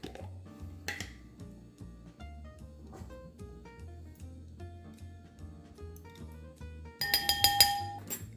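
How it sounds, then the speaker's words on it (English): A whisk clinking against a glass bowl while mixing a dipping sauce of rice vinegar, sugar-free ketchup and minced garlic, a quick run of bright, close taps and rattles with a louder burst near the end. "Whisk this up"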